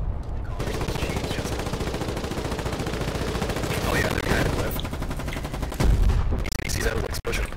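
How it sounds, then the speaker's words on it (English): Sustained machine gun fire and scattered gunshots from a defensive battle in the war game Foxhole, loud and continuous, with heavier bursts near the end; a voice talks faintly underneath. "There's a machine gun."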